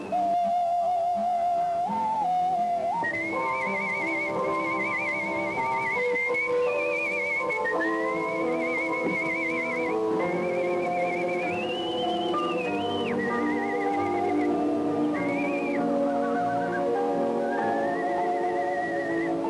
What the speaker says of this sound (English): Whistling is an art that is getting, and this proves that it's being revived.